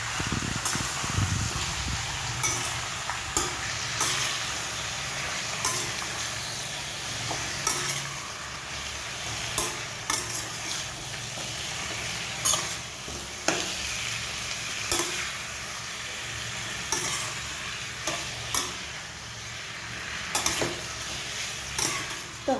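Sliced potato sabzi with turmeric, coriander-cumin powder and salt, dry-cooked without water and stirred in a frying pan: a steady close sizzle broken by regular spatula scrapes and taps against the pan, no talking.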